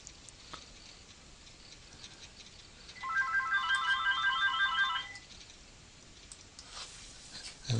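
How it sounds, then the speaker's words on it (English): A mobile phone ringtone plays a short, bright, repeating electronic melody for about two seconds, fairly quiet against a faint room background, with no talking. "And of course my phone is ringing."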